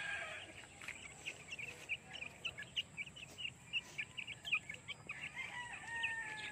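Rhode Island Red chickens in an afternoon yard, with faint, distant crowing and clucking over a steady background hiss, calls coming in short repeated bursts.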